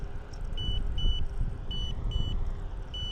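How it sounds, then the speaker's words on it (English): The CIRCOOTER Landturbo Pro scooter system gives repeated high electronic double beeps in a steady rhythm, clear over a low rumbling background. "it's going to do those double beeps, and it's frankly kind of annoying"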